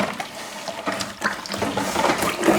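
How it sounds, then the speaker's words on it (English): A whisk beats thick Coopers lager beer kit extract into very hot water, giving a close, busy sloshing and swirling with quick irregular splashes. "Now I'll just whisk this in. It's kind of thick, but it won't take long because this water is really hot."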